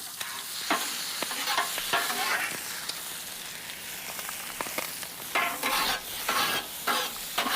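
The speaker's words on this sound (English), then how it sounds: "We'll flip our bacon." Bacon crackles and sizzles in a pan as the strips are flipped, with a continuous close fry broken by clattering scrapes and taps of the turning utensil, and no one speaking.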